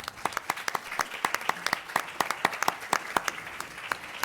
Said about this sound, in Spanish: para quien también pido un caluroso aplauso